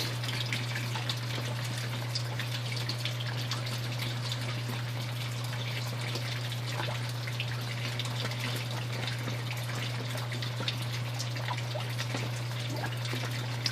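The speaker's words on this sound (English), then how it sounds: "it's really pumping it out of there" Water siphoning out through a DIY aquaponics T-siphon, a continuous soft gushing and trickling flow, steady and fairly quiet throughout with a low constant hum beneath.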